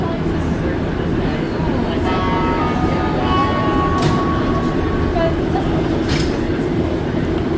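An MR-73 rubber-tyred Montreal Metro train runs on the Green Line between Viau and de l'Église, a loud continuous rumble with rising and falling whines and faint squeals, heard from inside the car.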